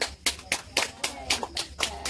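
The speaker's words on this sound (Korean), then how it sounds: "박수치 박수." Hands clapping in a quick, steady rhythm at a family birthday celebration in the Philippines, about nine sharp claps in two seconds, fairly close and lively, with faint voices in the background.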